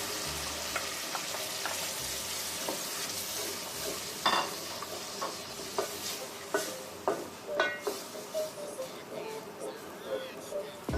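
Soft sizzling of garlic in a pan, then ground tomatoes go in and a spoon stirs with repeated scraping clinks, growing more rhythmic toward the end.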